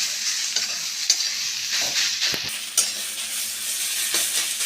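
Radish sizzles and crackles in a hot pan, a steady bright hiss broken by scraping stirs of a utensil, close by with no talking.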